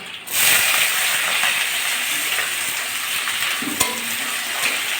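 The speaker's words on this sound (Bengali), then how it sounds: "আমি পেঁয়াজটা একটুখানি ভেজে নেব" Chopped onion and garlic fry in hot oil with whole cumin seeds, a steady close sizzle and hiss that holds throughout, with a brief clink of a utensil near the end.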